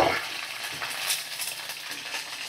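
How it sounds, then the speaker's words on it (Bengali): White mustard seeds, curry leaves and green chillies fry in hot oil, giving a dense, continuous crackling sizzle with bright popping bursts, close and loud, with no voices. "আমাকে সাদা সর্ষেই দিতে হচ্ছে। এই যে সর্ষে, আর দেখো কারি পাতা দিয়ে দিলাম। আর কিছু কাঁচা লঙ্কা দিয়ে দিলাম।"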